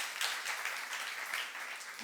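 Church congregation clapping during a sermon at a youth service, a steady wash of applause across the whole moment with a voice mixed in.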